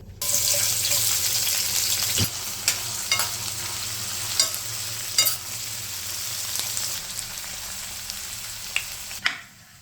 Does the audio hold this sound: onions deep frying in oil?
yes